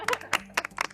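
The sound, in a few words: people clapping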